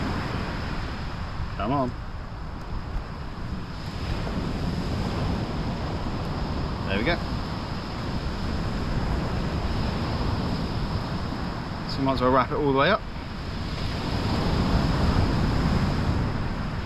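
Steady wind gusting and buffeting the microphone with a constant roar, surf-like wash underneath, on a Southbourne beach during ray and cod fishing, with someone speaking briefly a few times.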